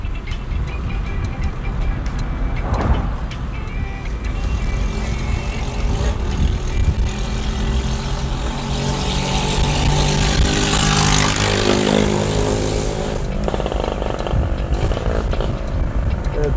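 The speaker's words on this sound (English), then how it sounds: "So that is how you ride a motorcycle in Jamaica." A motorcycle runs along a road in Jamaica, its engine droning loud and close with a swell of revving and passing traffic midway, no talk over it.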